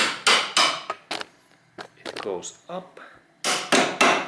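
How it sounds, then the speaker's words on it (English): A hammer carefully tapping a car driveshaft's ABS sensor ring to clean it, giving sharp metallic knocks in two bursts at start and end, with someone speaking briefly between them. "There's my hammer, and I carefully hit."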